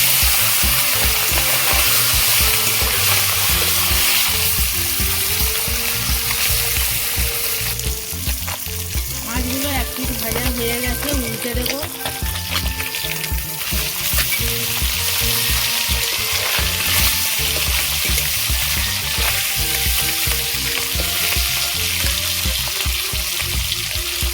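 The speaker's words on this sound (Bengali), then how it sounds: "তেল গরম হয়ে গেছে এবারে মাছগুলো ভেজে নেবো" Gang mouti fish frying in hot oil in a wok, a loud, steady, dense sizzle and crackle running continuously throughout with no talking.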